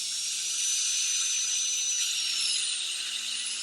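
High-speed dental handpiece with a burr running at ultra speed, a continuous piercing whine with a steady airy hiss, close and sustained, its pitch dipping slightly near the end, no talking.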